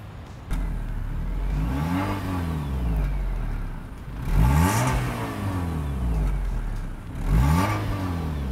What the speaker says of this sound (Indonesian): Bukan suara mesinnya, suara knalpotnya.